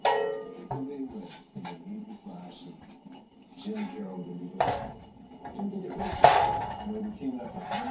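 A cooking pan is grabbed and handled in a home kitchen during preparation of shepherd's pie, giving a few close metallic clanks and knocks beneath ongoing talk.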